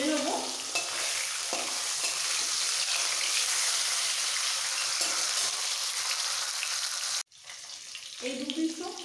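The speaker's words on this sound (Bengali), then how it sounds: "এই দু পিসও ভালো করে ভাজা হয়ে গেছে, আমি তুলে নিচ্ছি।" Fish head pieces frying in hot oil for a Bengali murighonto, a steady loud sizzle that runs on, breaks off briefly, then resumes more unevenly.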